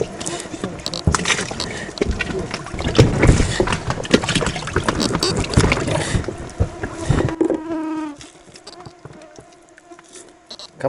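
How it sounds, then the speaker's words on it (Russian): Mosquitoes buzz in a thick, continuous whine close around a boat on a remote taiga river during a fishing trip, sustained and loud for several seconds before fading to sparser buzzing near the end, with no one talking. "Комарики, что ли? Комарики-то."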